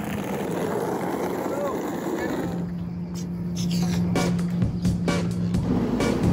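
A sea transfer boat ride to Split, with steady broadband engine and water rush throughout, a low droning hum joining midway, and occasional thumps and knocks over the continuous noise.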